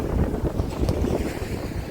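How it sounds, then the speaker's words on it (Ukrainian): Strong, steady wind from a storm in Odesa roars and buffets the microphone without pause, with a rushing, sea-like wash underneath. "а вітер посилюється все більше і більше"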